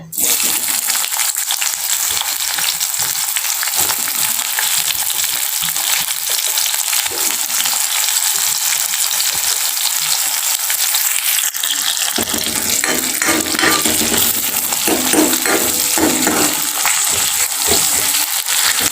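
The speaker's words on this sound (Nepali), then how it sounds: "मैले चाहिँ डाइरेक्ट खुर्सानी र प्याजले झान्छु है त।" Chili and onion sizzle loudly in hot oil as the base for a potato and egg curry, a dense crackling fry that runs throughout, with stirring scrapes growing busier toward the end.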